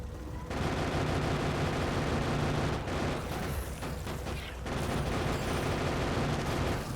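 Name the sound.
gunfire from shooting a gun in the video game Factorio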